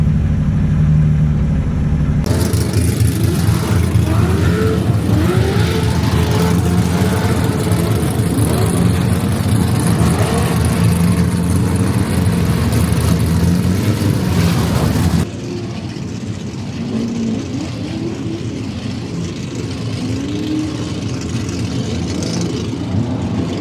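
Toyota Supra Turbo drift car at a Formula Drift event in Orlando, its engine rumbling loud and close throughout, with an abrupt drop in level partway through and no talk over it.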